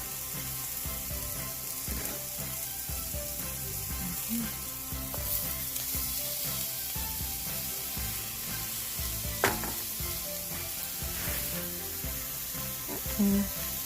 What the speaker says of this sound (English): now we're gonna go ahead and add in our greens